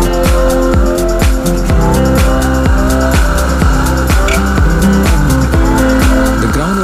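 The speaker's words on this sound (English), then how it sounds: "The ground was so slushy that the wheels kept turning with absolutely no traction." A Royal Enfield Himalayan motorcycle revs hard as its wheels spin without traction in slushy mud at an off-road training camp in Chikmaglur, a loud sustained engine drone with rhythmic pulsing throughout.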